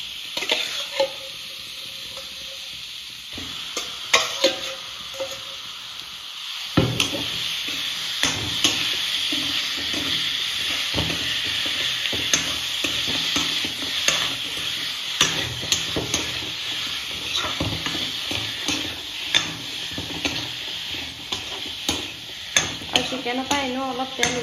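Broiler chicken sizzles and fries in an oil-free kadai while being stirred, with steady loud sizzling broken by repeated scraping and clattering strokes of a spoon against the pan throughout.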